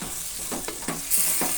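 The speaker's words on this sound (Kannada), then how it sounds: "ಈಗ ಚೆನ್ನಾಗಿ ಮಿಕ್ಸ್ ಮಾಡಿ" A spoon stirring rice with curd and masala in a pan for bread pulao, giving a few scraping strokes over a steady low sizzle, close and moderately loud.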